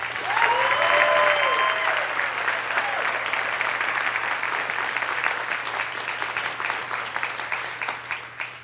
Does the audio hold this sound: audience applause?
yes